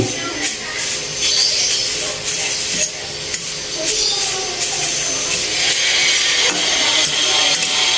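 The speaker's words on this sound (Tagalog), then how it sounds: "medyo maingay sa kapitbahay kasi may ginagawa doon, may nagtatiles doon kaya narinig niyo yung grinder, napakaingay" An angle grinder runs next door during tiling work, a steady harsh whine with shifting grinding scrapes that carries on throughout at a distance, with a voice faintly in the background.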